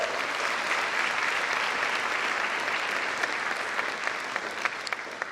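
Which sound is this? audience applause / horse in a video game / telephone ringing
audience applause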